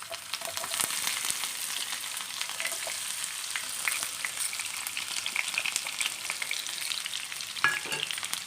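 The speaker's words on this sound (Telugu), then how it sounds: "కొద్దిగా ఫ్రై కావాలి" Chopped onion and green chilli pieces fry in hot oil, a steady, close, dense sizzle crackling evenly throughout with no talking.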